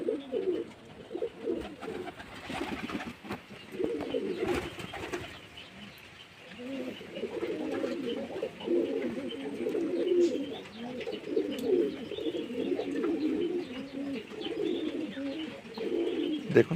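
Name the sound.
pigeons cooing and eating grain on the roof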